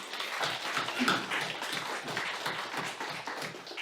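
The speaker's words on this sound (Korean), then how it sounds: "박수 한번 하겠습니다." A church congregation clapping together during a service, a continuous, fairly even patter of many hands heard at moderate distance and somewhat muffled.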